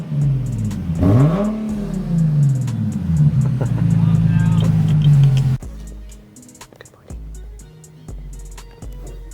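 A car with a newly installed aftermarket exhaust revs hard and loud up close, rising and falling in pitch for about five seconds, then settles into a deep, loping idle with short throttle blips, with people talking over it.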